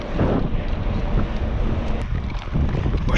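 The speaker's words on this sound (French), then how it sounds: "Avec un vent de face comme ça" A strong headwind buffets the microphone while riding an electric-assist mountain bike, a loud continuous rumbling roar with gusty surges and no voices.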